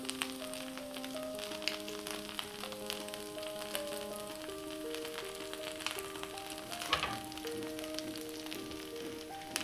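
An instant dosa sizzling and crisping on a hot pan, a soft, steady crackle heard under gentle background music, with a brief louder crackle partway through.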